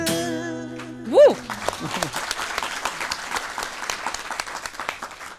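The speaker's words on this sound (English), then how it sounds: "Now I didn't have to ask them to clap louder." Studio audience applauding after a song, a steady wash of claps and some cheering that rises over a closing sung note and holds at moderate level.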